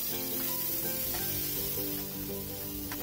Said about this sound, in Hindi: इसको हम इतना फ्राई करेंगे कि हल्का गोल्डन हो जाए